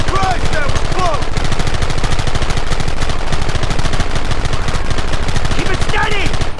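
Rapid, sustained gunfire from automatic weapons in the Red Dead Redemption video game, a dense continuous barrage lasting throughout, with shouting voices briefly breaking through the shots.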